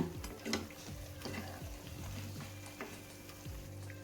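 Urad dal medu vada with onions frying in hot oil: faint, continuous bubbling sizzle with small pops and crackles, quiet and close, with no talking.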